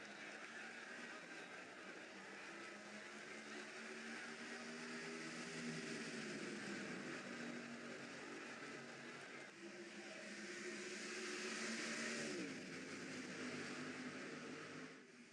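A pack of race cars gets underway at the start of a NiRA National race at Charlotte, their engine drones faint and distant, swelling and climbing in pitch as they accelerate away.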